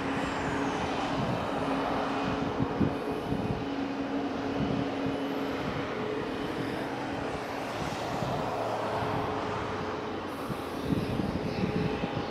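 Aircraft at Madeira Airport during landings and takeoffs, a steady distant engine roar holding throughout with broadband rumble and no speech.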